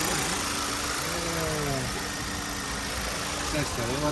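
An Audi engine in a high-mileage used car idles with a steady, close mechanical hum and faint knocking, while people talk over it.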